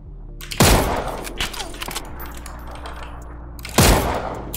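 Two loud, sharp Mosin rifle shots in a video game, about three seconds apart, each with a long decaying tail, over a low continuous background hum.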